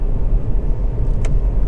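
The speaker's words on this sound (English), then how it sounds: "car starts absolutely instantly, of course, and settles to a smooth and even idle" A Hyundai i30 1.4 petrol hatchback idles smoothly and evenly, a steady low engine rumble running without a break from near the car, with one brief higher tick partway through.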